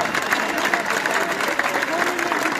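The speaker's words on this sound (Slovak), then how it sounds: "Veľký potlesk pre nich." A festival crowd claps loudly and steadily for a Slovak band at an outdoor concert, dense applause with scattered cheers, close and continuous throughout.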